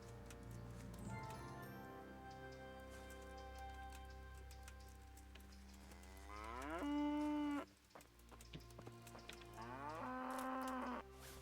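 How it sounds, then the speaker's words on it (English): A cow moos in the medieval open-world game Kingdom Come Deliverance, two long, loud, nearby lows rising over a steady background of ambient game music with no talk. "Hey, cow!"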